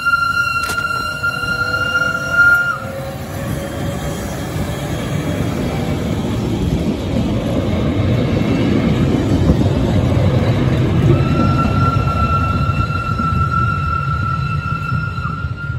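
A rack railway train on 1 meter gauge, the Alpspitze Bahn in the Bavarian Alps, rumbles steadily along the track, with high squealing tones from the wheels near the start and again toward the end.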